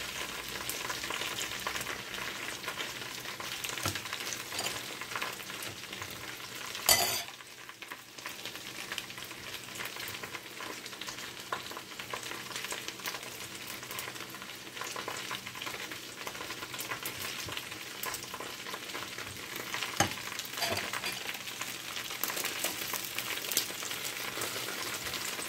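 Fried chicken thigh pieces crackle and spit steadily in a pan, a soft continuous sizzle with a sharp clatter partway through as a piece is handled.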